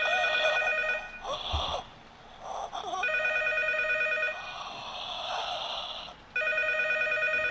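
A telephone rings in the horror game P.T. (Silent Hills), its bright electronic trill sounding in repeated bursts with short gaps, under faint muffled noise.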